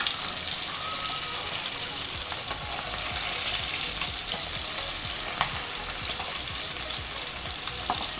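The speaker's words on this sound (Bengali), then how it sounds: "কই মাছ ভাজা বসিয়ে দিয়েছি" Koi fish fry in hot oil in a pan, a loud, steady crackling sizzle that holds throughout, with occasional faint clicks and pops on top.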